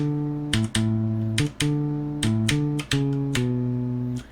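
A smooth synth bass in Soundtrap plays a short melodic bass line of sustained notes with clicky note attacks, loud and close, with no voices.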